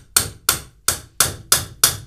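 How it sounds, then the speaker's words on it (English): A hammer strikes a wheel stud on a BMW E36 six times in a steady rhythm, each blow a sharp, close metallic clang that rings briefly before the next. "Now I'm gonna remove those studs by hammering it."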